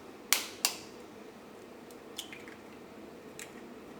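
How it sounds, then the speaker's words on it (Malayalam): Eggs cracked into a bowl to make the egg mix for masala egg bread toast: two soft, close taps in quick succession, followed by a few faint ticks in a quiet kitchen. "അതിന് വേണ്ടിയിട്ട് പാത്രത്തിലേക്ക് നമുക്ക് മുട്ട ചേർക്കാം,"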